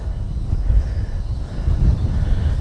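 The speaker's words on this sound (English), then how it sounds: "It's windy now." Steady low rumbling wind buffeting the microphone on a golf course, continuous and fairly loud, with no voices.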